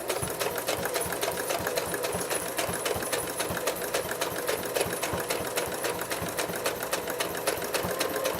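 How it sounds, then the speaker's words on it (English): A sewing machine stitches a fabric potholder in a fast, even mechanical chatter that runs without pause throughout, close and steady, with no talking. "you just start stitching again"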